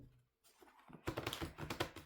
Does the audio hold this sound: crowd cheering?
no